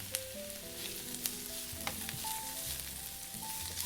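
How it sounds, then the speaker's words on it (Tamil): Potato nuggets deep-frying in hot oil give off a continuous close sizzle and bubbling, with a few faint clicks and tones in the background and no speech. "இப்போ பார்த்துட்டிங்கன்னா எண்ணெயில் நல்லா பொரிஞ்சு வருதுங்க"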